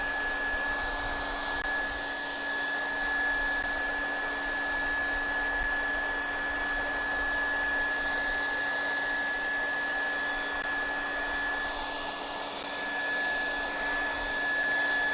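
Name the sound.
hair dryer on high drying paint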